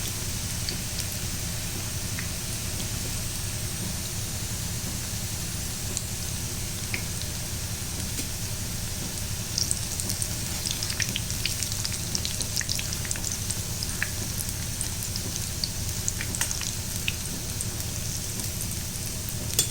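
Raw banana kola urundai balls frying slowly in oil on a low flame, a soft continuous sizzle with faint crackles and pops, steady and quiet with no voices.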